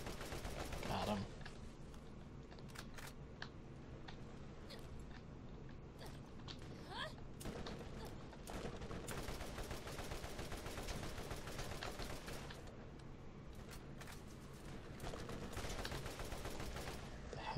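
Gunfire and mechanical clatter in the Borderlands game, fairly faint, with scattered sharp shots and bursts across a steady busy background, under intermittent talk.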